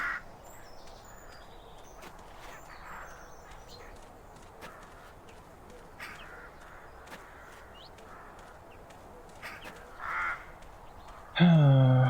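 Crows cawing around a church in the adventure game The Black Mirror, scattered distant caws over a quiet outdoor ambience, with a louder burst near the end.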